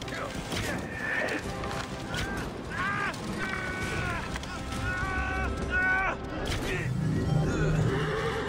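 Horse whinnies repeatedly in Assassin's Creed Origins gameplay, rising and falling neighs mixed with running movement and game ambience, with voices speaking throughout.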